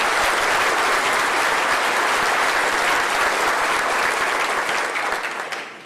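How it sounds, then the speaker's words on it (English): Loud, dense applause from an audience at a governor's economic initiative event, honoring Chancellor Nancy Zimpher, steady for several seconds before tapering off at the end. "Let's give a big round of applause for Chancellor Nancy Zilfer"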